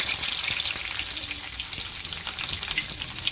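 Chopped onions sizzle and hiss in a hot pan while an egg curry (muttai kuzhambu) is cooked. There is a continuous bright frying crackle and no talking.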